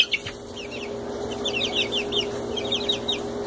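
Four-week-old chicks make a steady chorus of soft chirps and clucks, many overlapping peeps over a constant low hum, with no talking.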